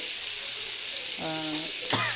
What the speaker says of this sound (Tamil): சீலா மீன் வறுக்கிறேன்